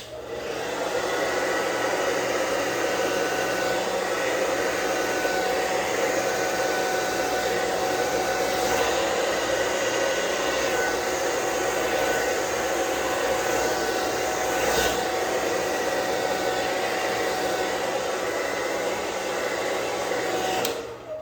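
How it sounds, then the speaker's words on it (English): A blow dryer runs steadily at close range while drying a beard for the whole stretch, a constant loud whooshing hum with no pauses. "a blow dryer is a great way to see some length added to it"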